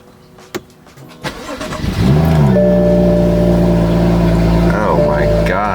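A BMW F30 335i with a resonator-delete exhaust and stock muffler starts up: a couple of starter clicks, then the engine catches with a loud flare and settles into a steady, deep idle with a brief blip near the end.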